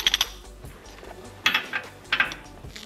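Harbor Freight telescopic breaker bar cracking loose the front wheel lug nuts on a Land Cruiser, heard as a few sharp metallic clicks and clanks in separate bursts, fairly close and alone.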